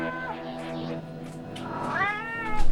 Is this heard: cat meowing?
yes